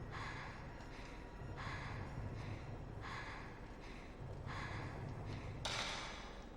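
Panting of a low-health character in the Fatal Frame horror video game: repeated breathy, noisy gasps in an even rhythm of about one per second, fairly loud over a steady low background hum.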